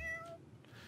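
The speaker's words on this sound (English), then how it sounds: "we've got kittens." A kitten in the Dwarf Fortress video game gives a short, soft meow with a thin tonal cry, faint and alone.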